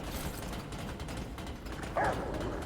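A pet dog in Remnant: From the Ashes gives a short bark and whimper near the end, fairly quiet over a low game ambience, with no talking.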